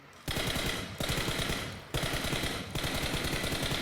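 Bursts of automatic gunfire in PUBG Mobile while peeking left and right from cover, four rapid loud strings of shots separated by brief pauses, close and dominant with no talking.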